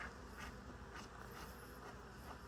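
Honey bees buzz around an opened hive as burr comb is scraped from the top with a hive tool, a steady quiet drone with occasional closer passes.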